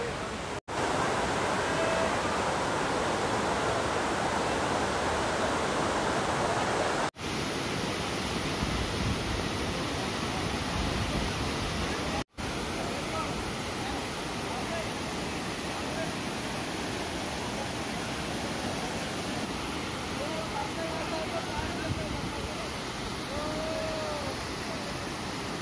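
The lower pool of Areekal waterfall roars as a loud, continuous broadband rush of falling water. It stays steady and close, with brief dropouts where the recording cuts, and no speech is heard.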